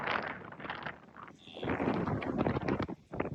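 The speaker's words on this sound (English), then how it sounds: "It's very windy out here on the Coral Island." Gusty wind on an island buffets the microphone in uneven bursts, loud and close, with a brief lull in the middle.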